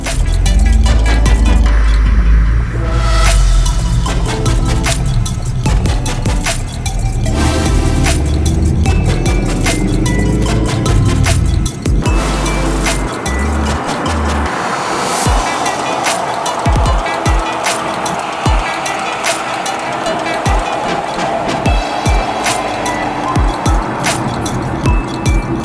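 A tow truck carrying a Nissan R32 GT-R on its flatbed drives along the road, with a steady loud rumble of road and engine noise, rattling and clinking from the load, and some wind buffeting throughout.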